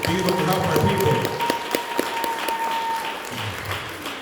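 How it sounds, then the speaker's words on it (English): An audience gives a round of applause at a talk honouring Crazy Horse. The clapping is steady and dense, with voices over it early on, then it thins toward the end. "let's give Crazy Horse a round of applause for his service"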